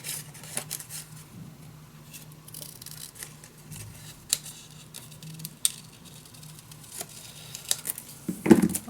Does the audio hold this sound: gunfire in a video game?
no